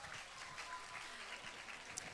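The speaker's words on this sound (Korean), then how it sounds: "초등부에게 뜨거운 박수 부탁드립니다." Faint, distant applause from a congregation for a children's choir at a Christmas Eve church celebration, a soft steady patter of many hands lasting a couple of seconds.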